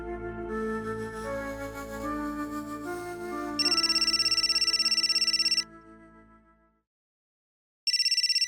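A telephone rings in an office with a loud electronic trilling ringtone: one long burst, a pause of silence, then the ringing starts again, following a sustained musical tone.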